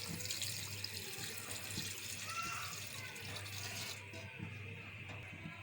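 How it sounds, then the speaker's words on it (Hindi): Water is poured from a tap into a pot of meat for aloo gosht, a continuous splashing stream close by that eases off near the end, with no talk. "पानी डालेंगे"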